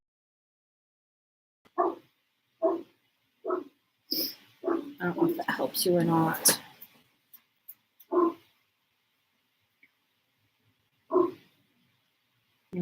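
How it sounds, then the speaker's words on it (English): A dog barks repeatedly indoors in a series of sharp single barks spaced about a second apart, pausing while someone talks, then resuming with a few more scattered barks. "I'm really sorry for my dog barking."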